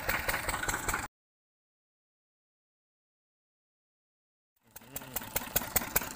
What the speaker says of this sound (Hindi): अब हम पहुँच चुके हैं वाटर इंजन, आपको आवाज़ आ ही रही होगी वाटर इंजन की ओर से